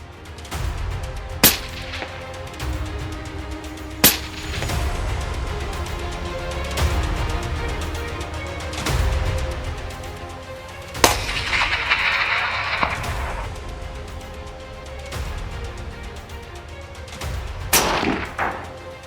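Winchester Model 70 rifle shots fired outdoors, several sharp single cracks spaced a few seconds apart over steady background noise, moderately loud.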